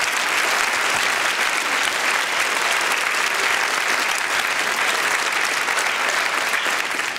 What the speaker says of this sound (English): I think they all deserve a rich round of applause.